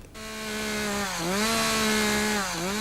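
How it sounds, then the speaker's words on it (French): Chainsaws cutting pine tree stumps for wood sculpture in the Landes forest: a steady, loud buzzing engine drone that rises and dips in pitch as the throttle changes, heard close and alone. "le vrombissement des tronçonneuses hante la forêt des Landes"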